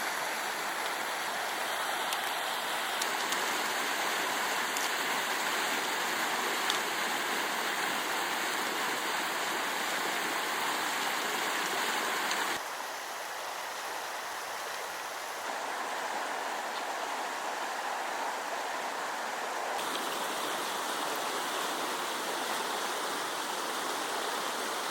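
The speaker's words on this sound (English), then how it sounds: "So got a double river crossing in the dark" River water rushing and flowing steadily at night during a double river crossing on an alpine winter traverse, a continuous loud broadband roar with a brief dip partway through and no talking.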